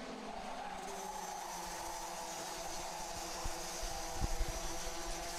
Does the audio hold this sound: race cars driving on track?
yes